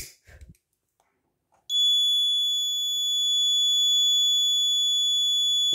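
An MQ2 gas detector alarm, set off by LPG, begins abruptly after a short quiet stretch and then holds a loud, steady, piercing electronic tone without a break, joined by a faint low hum near the end.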